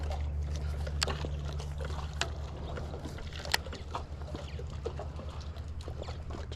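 Paddle strokes splash and drip steadily alongside a kayak on open water during a fishing outing, with a low steady hum underneath and occasional sharper knocks and splashes, no talking.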